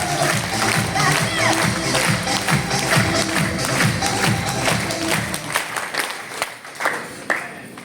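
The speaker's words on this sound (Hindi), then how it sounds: "अब बजाओ एक बार ताली।" Audience at an RCM business meeting in Faridabad claps together on request, a loud rhythmic round for several seconds that breaks into scattered claps and fades.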